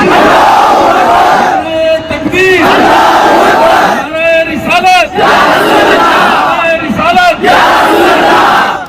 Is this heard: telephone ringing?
no